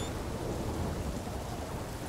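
Steady in-game rain from The Witcher 3 pours as a dense, even wash with low rumbling that may be thunder blended in, continuous and fairly loud throughout with no voices.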